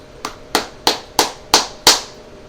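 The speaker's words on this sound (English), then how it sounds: "I'll applaud them for that right now." Six separate hand claps ring out at an even, unhurried pace, each one sharp and close. There is no crowd and no speech.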